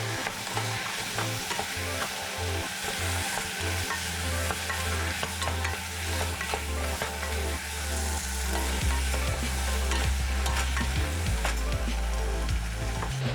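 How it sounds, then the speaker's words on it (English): Potatoes and carrots stir fried in a pan for a vegetarian ABC soup, a steady loud sizzle with scraping stirs throughout, growing stronger toward the end, with no talking. "And then some more light stir frying."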